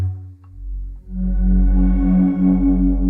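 A low, steady Korg opsix synthesizer sine wave pushed through distortion, gritty and buzzing, sustained and loud, its pitch stepping once before holding with a slight wobble.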